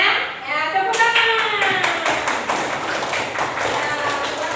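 A school class claps hands together as a reward for a group's good work, a scattered run of claps in a classroom that begins after a voice speaks briefly over the opening.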